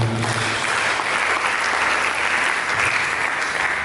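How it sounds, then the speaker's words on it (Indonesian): A congregation at a church service gives loud, sustained applause, a thick continuous wash of many hands clapping that fills the whole stretch with little else audible. "Mari kita bikin tepuk tangan."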